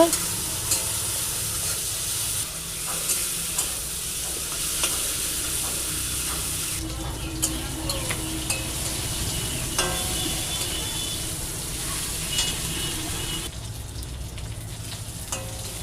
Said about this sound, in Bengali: ধুয়ে রাখা চিংড়ি মাছগুলো দিয়ে দেবো, লবণ দিয়ে দেবো, হলুদ গুঁড়ো দিয়ে দেবো। এবার ভালো করে একটু ভেজে নেব।